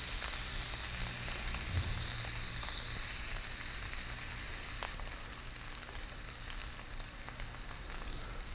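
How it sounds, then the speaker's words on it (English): Steak frying in an oiled pan, a continuous crackling sizzle with dense spitting pops held at an even level close by, no voices over it. "I'll add my steak to it. I like the sizzle"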